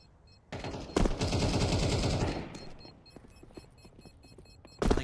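In a Counter-Strike match, an AK rifle fires a rapid sustained burst of gunfire for about two seconds, loud and close, followed by quieter scattered shots and game noise, then a final sharp burst at the end.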